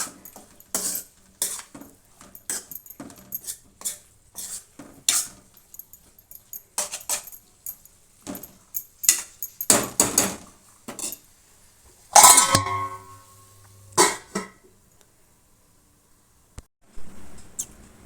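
A cooking pot of spinach chutney being stirred and covered, with close, sharp metal clinks and scrapes of a utensil against the pot coming in irregular bursts, then a louder clatter as the lid is set back on, and quiet gaps between.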